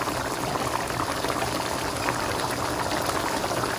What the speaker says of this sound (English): let it simmer for a few minutes